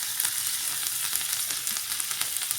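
Cumin, asafoetida and green chili sizzling in hot tempering oil for a traditional red pumpkin raita, a steady close crackling hiss with no talk.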